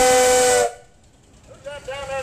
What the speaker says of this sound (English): Toot the whistle.